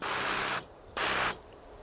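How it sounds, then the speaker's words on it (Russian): A battery garden sprayer with a flat slotted nozzle gives two close bursts of steady hissing spray, each cut off sharply and separated by a short pause. "Вот видим, как она плоско распыляет."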